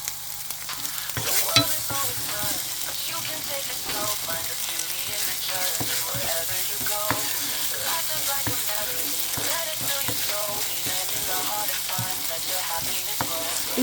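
Mixed vegetables are sautéed in a pan for special fried rice, giving a continuous loud sizzle broken by repeated spatula scrapes and clinks, with no talk.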